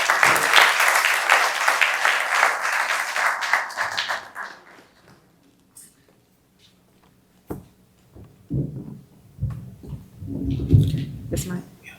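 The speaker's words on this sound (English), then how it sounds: "Can you all give her a warm round of applause?" An audience applauding a speaker, dense clapping for about four seconds that fades out, followed by scattered thumps and microphone handling before a voice begins speaking.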